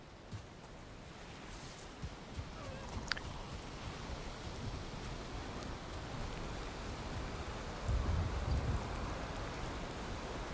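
Steady rain falls in the Valheim video game, a continuous soft hiss of rainfall with a faint low rumble, with no voices over it.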